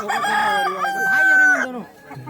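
A rooster crows loudly and close by at a rooster market in Manpur-Mohla, Chhattisgarh, one long drawn-out call rising and falling, with a short cluck at the end.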